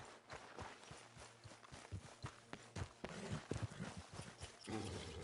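Horse hooves clip-clop at a walking pace in Red Dead Redemption, a faint, irregular run of soft thuds over a low game ambience.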